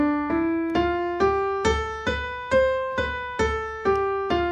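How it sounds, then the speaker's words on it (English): Piano playing an eight-note scale from middle C up to the next C and back down, each key struck separately in an even, steady rhythm, clear and close with no talking. "we're gonna go from C all the way up to the next C and back down again"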